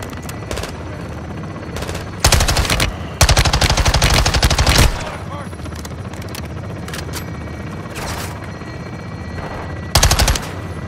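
An aircraft gun run in Call of Duty: Modern Warfare 2 (2022), Ghost Team mission, lets loose loud sustained bursts of rapid machine-gun fire over a constant engine drone, followed later by a shorter burst.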